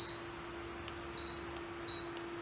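A Costway DC desk fan beeps as its timer is set with the remote: three short, faint electronic beeps spaced evenly apart over a quiet motor hum.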